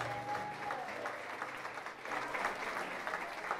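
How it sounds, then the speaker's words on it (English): Wedding guests applaud the bride and groom at a reception, a steady, dense wash of clapping that holds through the whole stretch with a faint tone briefly audible at the start. "But a very big round of applause for your bride and groom on their first"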